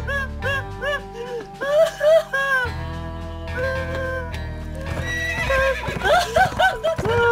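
A horse in The Escapists 2 video game neighs and whinnies in repeated high, wavering calls over a steady low game background, loud and close, with clip-clop hoof sounds and no talking.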